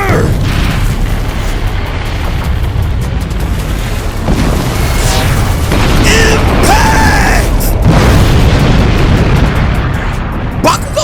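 Anime battle explosion from Bakugo's Howitzer attack in My Hero Academia's final war arc: a sustained, loud, dense rumbling blast with crackling bursts and booms filling the whole stretch, with some voice-like tones mixed in.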